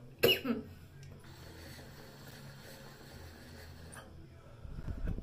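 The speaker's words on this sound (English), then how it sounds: "Coughing also hurts my back." A harsh, close cough bursts out near the start, then low rustling and handling noise continue, with a thud-like rumble toward the end.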